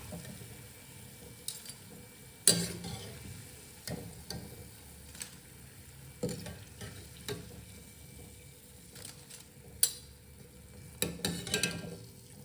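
Chettinad masala cheeyam fries in oil over a medium flame, a quiet bubbling sizzle broken by occasional sharp clicks and stirring knocks, no voices.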